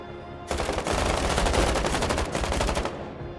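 A submachine gun in a video game fires one sustained automatic burst of rapid shots lasting about two and a half seconds, loud and close, then cuts off into a short fading tail.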